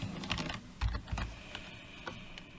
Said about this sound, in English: some typing required